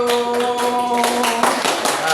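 Group of students clapping after a classroom presentation, a loose patter of hands close by with a sustained tone and faint voices running underneath.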